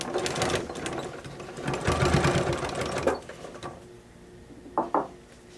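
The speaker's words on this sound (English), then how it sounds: "let's just take our time and sew this" A sewing machine stitches jeans in a steady fast whir for about three seconds, then stops, followed by two short bursts.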